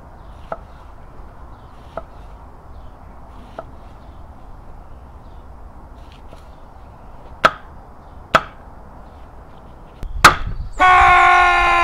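A knife chops through apples on a cutting board with a few sharp, spaced thuds, then a louder rapid pair of impacts and a sudden clatter followed by steady noise at the end.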